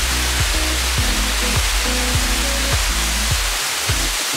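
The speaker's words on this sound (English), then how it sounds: "While watching these waterfalls, I figured it to be a Knickpoint Falls" Jonha Falls near Ranchi pours down in a constant broadband rush of falling water. The roar is loud and unbroken, with a faint rhythmic tonal layer beneath it.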